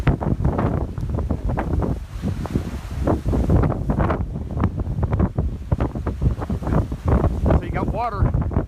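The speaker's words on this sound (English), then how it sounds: "The wind's gonna blow like crazy." Strong hurricane winds from Hurricane Harvey, at Category 4, roar and buffet a microphone outdoors by the intracoastal waterway, in loud uneven gusts with surf-like rumble throughout.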